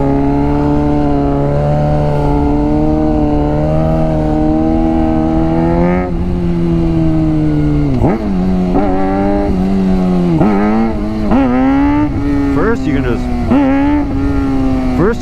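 Suzuki GSX-R 600 sport bike engine climbing through gears on twisty roads, a loud close steady drone that rises in pitch and then breaks into sharp revs and gear changes in the second half, with a voice speaking over it.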